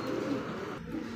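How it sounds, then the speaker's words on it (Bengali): Bombay pigeons with yellow eyes at a busy pigeon market, their soft cooing blending into a steady low murmur of birds close by. "আরো এক জোড়া কিন্তু বোম্বাই কবুতর হলুদ চোখের"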